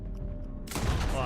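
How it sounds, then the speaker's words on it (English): A single sharp gunshot cracks out in Red Dead Redemption 2, a sudden loud burst after a moment of low background noise, followed by a brief ringing tail. "Oh, that was a shot."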